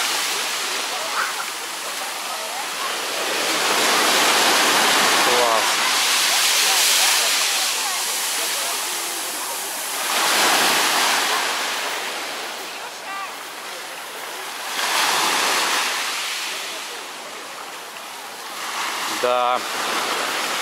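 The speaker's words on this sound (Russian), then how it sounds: "Ну, волны сегодня приличные." Sizeable sea waves roll in at Cleopatra Beach in Alanya, surging and receding in broad swells of rushing surf with brief voices and a short word spoken nearby.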